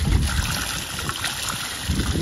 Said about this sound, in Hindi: कचूड़ा के चश्मों से आता हुआ पानी बहुत ही मज़ेदार